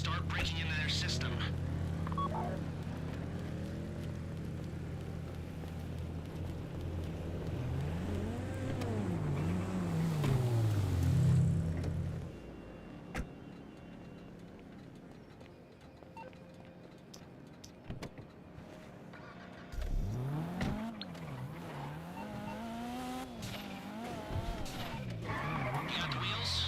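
In GTA V Online, a car engine revs and shifts through rising and falling pitch sweeps, with tire squeals and skids, under in-game voices giving heist instructions.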